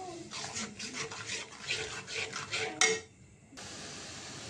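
Spices such as chili powder, turmeric, coriander and salt being stirred and sautéed in a pan, a metal spoon scraping and clinking against the pan in steady close strokes, with a louder knock near the end.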